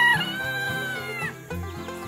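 Silkie chickens cluck and murmur close by in a short run of rhythmic, throaty calls with no talking.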